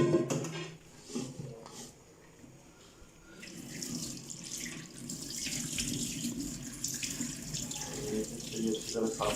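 Running water splashes steadily into a sink as something is rinsed, with brief pauses and clatter, continuous and close.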